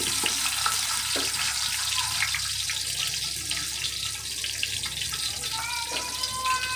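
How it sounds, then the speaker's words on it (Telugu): Green chillies and small onions frying in oil for sambar give a steady, dense hiss and sizzle that fills the whole clip, close and loud, with faint clinks and no talk over it. "ఆ ఉల్లిపాయలు అలా వేగుతున్నప్పుడు"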